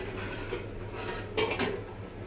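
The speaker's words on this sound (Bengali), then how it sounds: "এখন এগুলো ঢেকে দিই" Metal cooking pots being covered with lids in a home kitchen, soft clanks and a couple of clinks of metal on metal over a quiet background hum.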